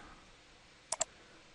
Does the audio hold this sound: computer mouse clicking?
yes